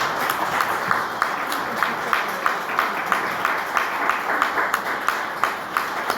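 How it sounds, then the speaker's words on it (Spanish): A church congregation claps in a sustained round of applause, with evenly spaced sharp claps standing out in a steady rhythm over a broad wash of hand-clapping, close and moderately loud. "Dale un fuerte aplauso al Señor"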